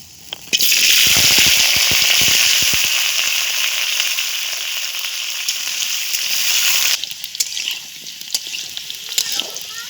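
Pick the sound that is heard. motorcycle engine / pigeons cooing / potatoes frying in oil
potatoes frying in oil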